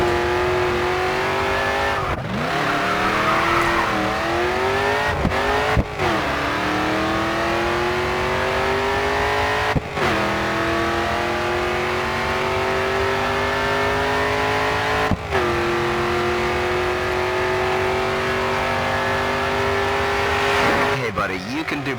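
Race car engine at full throttle in the racing game GRID 2, a loud sustained roar with rising harmonic pitch sweeps through gear changes, several sharp shifts breaking the climb, with a voice talking over it.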